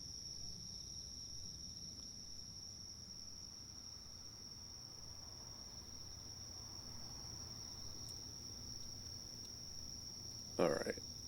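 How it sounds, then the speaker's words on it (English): Crickets chirp as ambience in a horror video game set on a Friday night, a faint steady high-pitched trill running continuously under a quiet low background, with a short sharp noise close to the end. "The crickets aren't too crazy"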